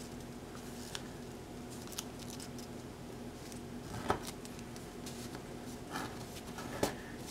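Paper being folded for an origami waterbomb gives soft, faint crinkles and creases, with a few sharper crisp snaps.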